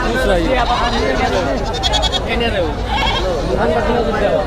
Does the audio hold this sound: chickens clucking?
no